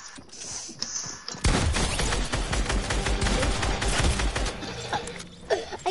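A rapid, sustained burst of AR assault rifle fire from a first-person shooter video game, loud and dense after a quiet opening second, with crackling repeated shots and mechanical clatter.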